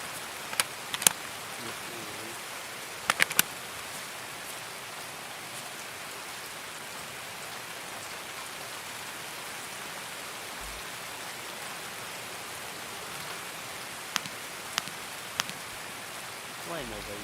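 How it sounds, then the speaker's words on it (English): Steady rain in the video game Escape from Tarkov, a soft, even hiss of falling water that lasts throughout, with a few sharp clicks and taps scattered over it. "rain is loud."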